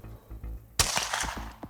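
A handgun with a 15-round magazine fires one sharp, loud crack. A few fainter popping echoes trail off after it, with no talking.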